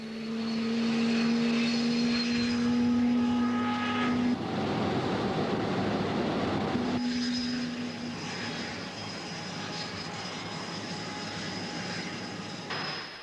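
A jet aircraft flying test spins roars with a loud, steady engine drone and a sustained whine that shifts partway through, with no voices.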